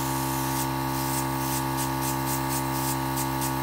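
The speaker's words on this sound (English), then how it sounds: "I always like to spray a tissue, making sure that the color is coming out properly." Airbrush spraying makeup foundation onto a tissue, a steady close hiss with soft pulsing bursts over a constant hum, no talking.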